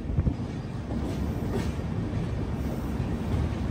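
A train with LHB coaches rolls along the track at speed, a steady loud rumble with faint rhythmic wheel clatter throughout, heard from inside without any voices.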